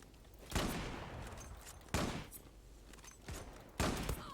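A CheyTac M200 sniper rifle fires in the shooter game Zula, three sharp, spaced shots about a second and a half apart, each cracking out and then fading into a short tail.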